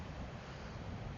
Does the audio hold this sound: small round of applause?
no